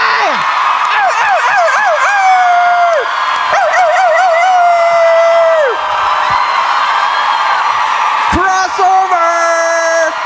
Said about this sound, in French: OK, la gang, continuez à applaudir.